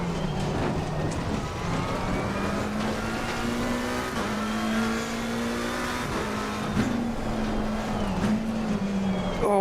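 Race car engine at Bathurst in the Assetto Corsa driving game, a loud continuous droning note that rises and dips with gear changes and throttle, steady throughout with no voices.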